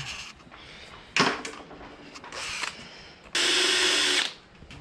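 A power drill works at a broken stud on a Toyota 2H engine, running in short whirring bursts of varying length with pauses between and one longer, louder run near the end.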